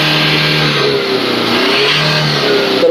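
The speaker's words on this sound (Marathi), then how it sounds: "फुल रेस करा, फुल" A 2018 Toyota Innova Crysta 2.4 G diesel engine revs hard at full throttle, a loud, sustained, rising roar that holds steady with no talk over it.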